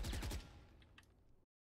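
A rapid burst of gunfire in the Valorant practice range while aiming down sights: a quick string of sharp shots at the start, followed by a fading tail and faint clicks before cutting to silence.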